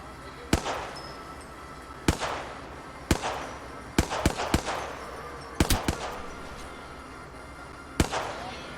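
Sharp single gunshots fired at a dragon in a video game ring out at irregular intervals, some in quick pairs, loud and close over a quiet background with faint talk.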